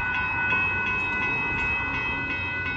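A northbound Amtrak Texas Eagle passenger train, number 22, approaches the Dittmar Road crossing in Austin, Texas, with a steady rumbling roll and a sustained tonal hum, close and loud with no talk.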